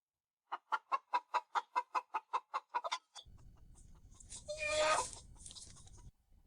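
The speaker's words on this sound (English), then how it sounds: "why are there so many chickens?" Chickens at a villa give a quick run of about a dozen evenly spaced, clipped clucks, then a louder drawn-out squawk rises over a rustling farmyard background.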